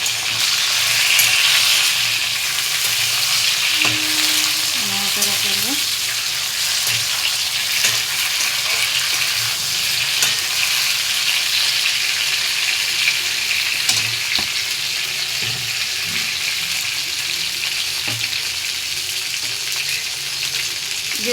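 Vegetables hiss and crackle loudly in hot oil seasoned with bay leaf and panch phoron, a constant close sizzle broken now and then by the scrape and clink of stirring.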